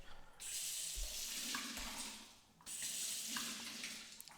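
Running water rinses all-purpose cleaner off a surface during a paste wax comparison, with two bursts of a steady, close spray-like rush broken by a brief pause.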